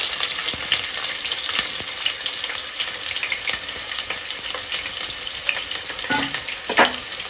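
Chopped onions and mustard seeds sizzle hard in plenty of hot oil for a Bhogi-special country chicken curry, natukodi pulusu; a loud, steady crackle continues throughout, with a few stirring scrapes near the end and no talking.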